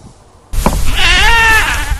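Goats on a farm bleat loudly and close by in one long wavering cry that starts suddenly after a quiet lead-in, with no voices.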